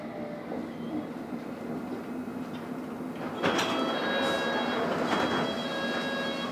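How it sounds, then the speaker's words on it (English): London Underground Metropolitan line train standing at Baker Street, a steady low rumble and hum of the carriage with a louder burst of door or mechanism noise midway, continuing at a raised level, no talk. "This is Baker Street. This is a Metropolitan line train to Aldgate."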